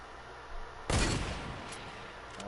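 A single loud gunshot rings out in a video game shooter, a sudden burst that decays over about a second against a steady game background, with no talk.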